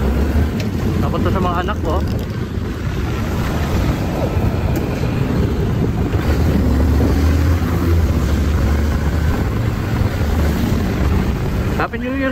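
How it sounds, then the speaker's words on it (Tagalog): Many motorcycles revving on New Year's make a continuous engine drone with rising and falling roars, while someone talks over the noise close to the mic. "At ang dami ng wawalwal ng motor."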